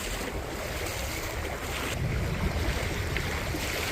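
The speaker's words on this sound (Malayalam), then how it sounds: "വെള്ളം ഇരച്ച് കയറിക്കൊണ്ടിരിക്കും" Strong floodwater current rushes toward a house gate in Chellanam, Kerala, in 2024. The rushing roar is continuous and loud, with wind buffeting the microphone.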